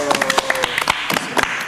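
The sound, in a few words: applause for Vindes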